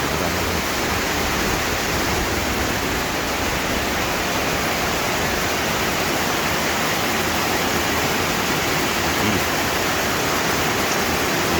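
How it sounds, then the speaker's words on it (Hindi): A waterfall pours in heavy monsoon rain at Lonavla, a constant, loud, broadband roar of rushing water that holds steady with no pauses and no voices. "झरना"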